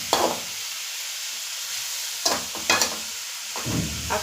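Chopped bottle gourd fries in hot ghee with a continuous gentle sizzle, broken by a few clattering scrapes and knocks of a spoon stirring the pan.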